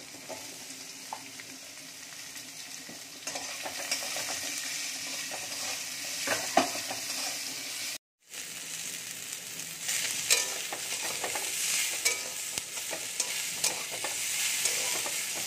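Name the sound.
ginger and onion frying in oil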